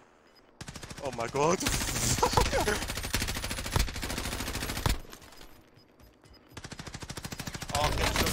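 Automatic gunfire in Call of Duty Warzone rattles in loud, rapid bursts from above, sustained through most of the moment, with shouted voices over the shooting.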